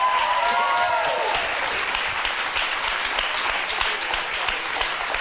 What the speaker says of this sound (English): You don't have to applaud that.